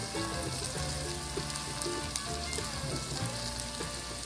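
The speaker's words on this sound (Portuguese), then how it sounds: "agora eu vou estar colocando os pimentões, tá, pessoal? Aqui eu vou estar usando o pimentão amarelo, o vermelho e o verde, picado em cubinhos" Diced yellow, red and green bell peppers frying in a pan for an egg moqueca make a steady, close, even sizzle with fine crackling throughout and a soft tonal hum beneath.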